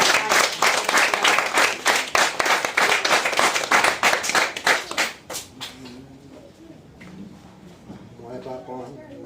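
A congregation claps at a Haitian church prayer service, with brisk, loud applause for about five seconds before it thins out and fades under quieter background sound.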